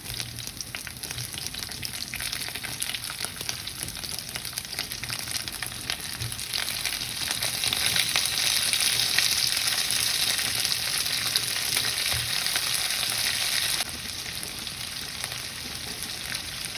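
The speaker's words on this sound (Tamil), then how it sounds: "இப்போ வெங்காயம் நல்லா வதங்கி வந்துடுச்சு. இப்போ நான் மீன் போடுறேன்." Trevally fish frying in a pan with sautéed onions for a fish curry, giving a loud, steady hiss and crackle that swells midway, then eases slightly near the end.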